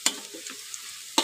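Garlic and shallots sauté in a pan for a Padang-style gulai tunjang, with a soft, steady sizzle broken by a few sharp stirring scrapes of a utensil against the pan, heard close.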